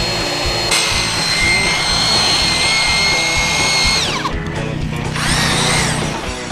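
A power tool's motor whines steadily and loudly, then drops in pitch as it bogs down under load and briefly spins back up, heard at a tree house construction site.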